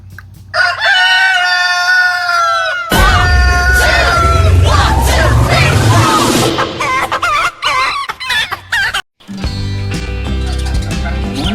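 A rooster crows loudly and close, followed by a burst of clucking and squawking hens, then a chicken-filled backdrop.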